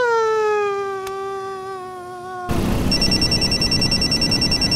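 A mobile phone rings, first as a sustained electronic tone, then as a fast pulsing repeated ring tone that continues steadily to the end, with no voices.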